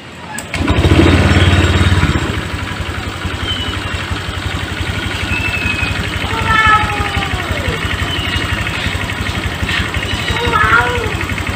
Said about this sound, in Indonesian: Kemudian kita nyalakan mesinnya.